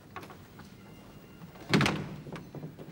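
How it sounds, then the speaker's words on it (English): A single solid thud of a door being closed in an indoor period drama scene, heard fairly close against a quiet room background with faint rustling before and after. "Close the door, please."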